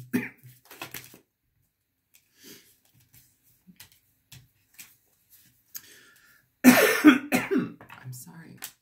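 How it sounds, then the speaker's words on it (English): A person with a persistent cough coughs and clears their throat in short bursts, with quiet sniffs and pauses between, then a louder cluster of harsh coughing near the end. "I can't shake this cough thing."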